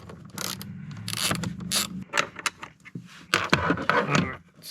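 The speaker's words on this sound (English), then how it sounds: "let me get a ratchet and pull that out." A ratchet clicks in short irregular bursts while backing out a small 7 or 8 mm bolt inside a Ford Bronco, close up, with scraping and handling noises between strokes and no talking.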